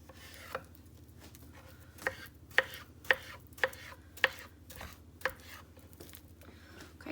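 A knife chops a banana into bite-sized pieces on a cutting board, giving seven or eight sharp, separate knocks at an uneven pace over a low steady hum.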